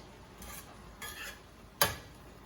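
Sautéed spinach is stirred in a pan over a very high flame, with three separate scraping strokes of a utensil against the pan, the last one a sharp, louder knock, over a faint, quiet background.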